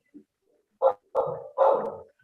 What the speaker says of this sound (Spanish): El perro Patricia opina